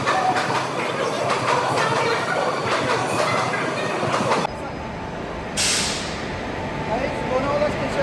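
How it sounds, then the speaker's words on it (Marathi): A train runs at Lonavala railway station in India with a steady, loud rumble of rolling wheels and carriages, then the noise shifts and drops partway through as the train moves. "लोणावळा स्टेशन."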